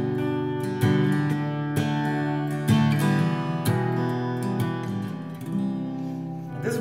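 Guitar playing a song, mixing picked arpeggio notes with full strummed chords, close and steady with sharp strum attacks every second or so, no talking.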